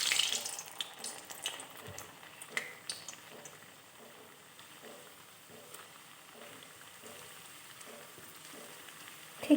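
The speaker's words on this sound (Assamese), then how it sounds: "এতিয়া মই ঠেকুৱা কেইখন ফ্ৰাই কৰি ল'ম।" Thekua dough pieces fry in hot oil in a wok with a continuous close crackling sizzle, occasional louder pops and light clinks of a utensil.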